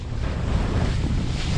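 Extreme wind roars across a small action camera microphone, a loud, constant broadband buffeting with no pauses, on a fast boat ride over water.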